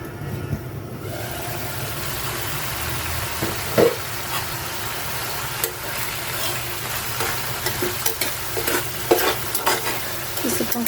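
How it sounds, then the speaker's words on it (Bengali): Water poured into a frying dish sizzles in a pan while a spoon stirs it with steady scraping, a close, continuous hiss punctuated by brief clinks and louder stirring strokes. "তার সাথে আমি এই যে এখন পানি দিয়ে দেবো"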